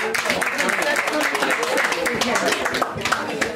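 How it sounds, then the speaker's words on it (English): Steady, dense clapping from the audience at a twin sisters' 80th birthday celebration, a sustained round of applause filling the room, with voices mixed in. "Give them another big round of applause."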